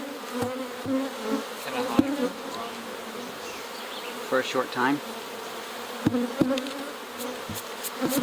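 Honey bees swarm and buzz around an opened hive that holds plenty of pollen and honey, a steady close droning with louder swells as insects pass near, and a person speaks briefly.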